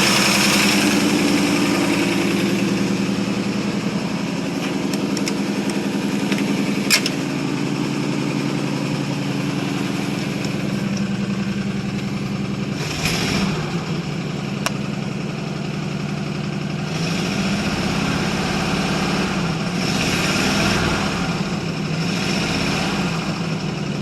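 A 1947 Ford Super Deluxe flathead V8 idles steadily after a cold start, a continuous low engine rumble that holds even throughout, with brief mechanical clicks and a slight shift in tone partway through.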